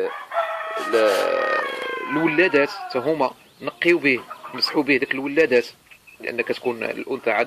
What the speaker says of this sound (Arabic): كنعتذر على الصوت ديال المقاقيه ديال الدجاج، لان وقيتهم هذه باش كيوضعوا البيض